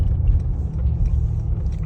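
Deep, steady engine grumble from a Brabus G700 combustion engine under throttle, a continuous low rumble with no voices.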